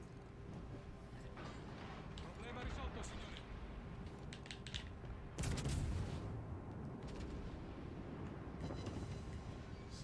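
Naval guns boom from a warship firing high-explosive shells in World of Warships Legends, a dense rumbling battle soundscape with a heavy blast near the middle, continuous engine-like drone, and occasional crackling impacts throughout.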